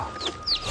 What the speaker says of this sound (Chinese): 小鸡在里边啊，就跑得开了。